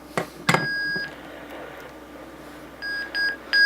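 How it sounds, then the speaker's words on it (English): A sharp click, then a series of loud, high-pitched electronic beeps from a Motorola GM350 radio powering up, steady tones repeating in short bursts. "I excuse your ears for the painfully loud beeps you're going to hear."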